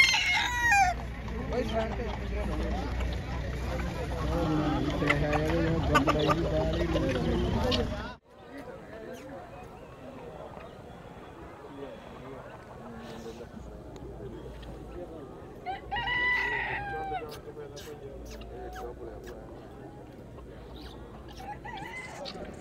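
Roosters and hens cluck and call amid a busy livestock fair market in Muktsar, Punjab, with people talking; a loud stretch at the start gives way to quieter background noise.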